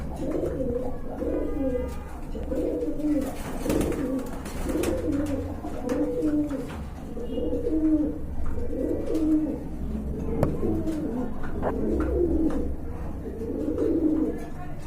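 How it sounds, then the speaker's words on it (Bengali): A pair of teddy pigeons coo steadily nearby in repeated low, throaty phrases, one after another over a faint background hum. "এখন কিন্তু দেখতে পাচ্ছেন এক জোড়া টেডি কবুতর রয়েছে"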